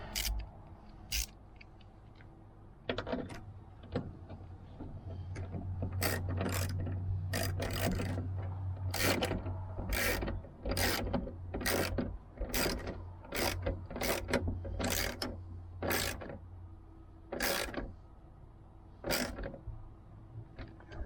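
A ratchet tightens a fastener while a puddle light is installed on a 2009-2014 Ford F150, with repeated close, sharp clicking bursts in a steady working rhythm and brief pauses between strokes.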